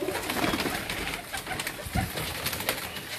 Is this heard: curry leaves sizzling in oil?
no